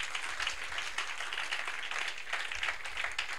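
Church congregation clapping together during a prophetic worship service, a steady wash of many hands in the room, moderately loud and continuous with no talk over it.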